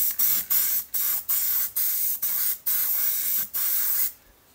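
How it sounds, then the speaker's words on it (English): Spray paint hisses from a can in about nine short, sharp bursts of roughly equal length, each separated by a brief gap, before stopping. "Excuse me while we at least spray paint"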